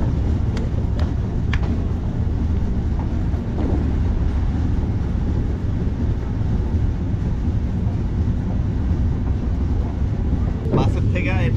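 The Ruposhi Bangla Express rolls along after leaving Kamalapur station in Dhaka, a steady loud rumble of carriages with wind rush and faint clatter, and a voice speaks over it.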